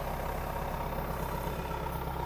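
A Mahindra Roxor diesel engine idles steadily after a cold start, a low, even rumble held at a constant close level with no voices.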